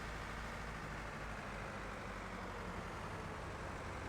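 An old Deutz tractor engine runs steadily, a low, continuous diesel rumble with broad noise and no clear rhythm, unchanging in level throughout, with no voices.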